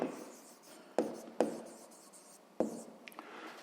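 Pen strokes on paper during a sixth-grade math exercise, with several sharp scratchy taps and short scribbles spread across a few seconds in a quiet room, close and fairly soft, with no voices.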